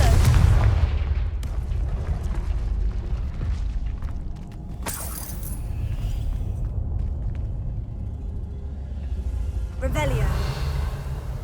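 A fiery Confringo spell blast in the Hogwarts Legacy game on PS5, with a rumbling explosive burst and crackling debris over a continuous loud booming game soundscape, close and forceful.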